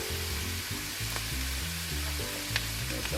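Onions and cabbage sizzling in a pan for cabbage pasta, a continuous close crackle and hiss with a few light stirring clinks, no voices.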